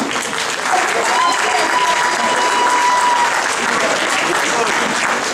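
A hall full of people at a Cincinnati Durga Utsav gathering claps steadily after a children's play, sustained dense applause that swells and holds, with a voice speaking over it.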